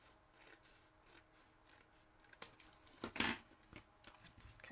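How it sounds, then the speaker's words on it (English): Quiet, close scissors snipping away overhanging card stock during papercraft, a few soft cuts building to a crisp, louder snip near the end, with light rustling of paper around them. "if you have any overhang, just snip that off"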